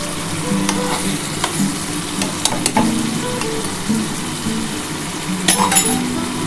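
Ghee goes into a hot pan of dhokar dalna, a Bengali curry of chana dal cakes, producing a loud, steady, close sizzle broken by a few metallic clinks of the utensil, with no one speaking.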